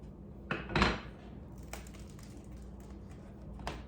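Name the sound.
bread knife cutting crispy homemade bread crust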